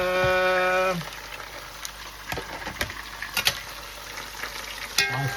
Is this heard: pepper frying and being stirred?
yes